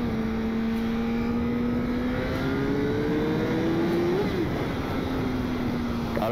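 A motorcycle engine holds a steady hum, then climbs in a smooth rising rev before dropping back to idle, close and continuous with no voices.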